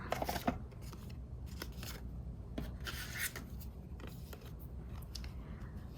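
Scissors cutting paper while making a tab journal, a run of crisp snips and rustling over steady room noise, close by and without speech.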